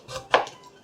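A knife cuts a pumpkin in half for a Thai coconut-milk dessert, giving one sharp close chop against a board, preceded by a softer scrape of the blade and followed by quiet.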